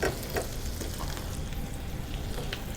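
Paneer fries in butter with garlic and onion, a close, steady sizzle with occasional crackles and the scrape of a stirring spoon, no talking.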